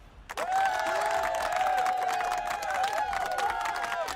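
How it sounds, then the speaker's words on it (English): Applause and cheering break out suddenly and continue loudly, with whoops and shouts rising over the clapping of a lively crowd. "let's give him a round of applause"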